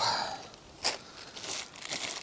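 Plastic bag crinkles and rustles in short, quiet bursts, close by, as fishing gear is packed on a windy riverbank, with a brief louder crunch partway through.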